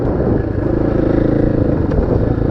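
A dirt bike ridden on a trail with grippy tires, its engine droning steadily and loud up close with some clatter, no talk over it.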